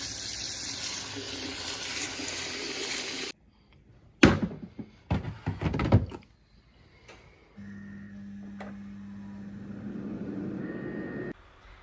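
Tap water runs into a sink while a robot vacuum-mop's dirty water bucket is rinsed out, a steady broadband rush broken by clattering handling noises and a lower, even flow later on.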